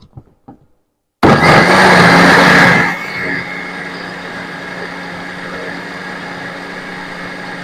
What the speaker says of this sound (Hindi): फिर इसको ग्राइंड कर लेते हैं।